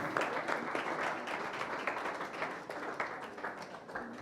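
Audience applause for African startup founders at a pitch event in Milan, a continuous, moderately loud roar of many hands clapping in a large hall, steady for the whole stretch.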